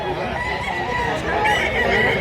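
Roosters in a Cebu market setting crow and cluck amid a busy, noisy background, with indistinct voices mixed in.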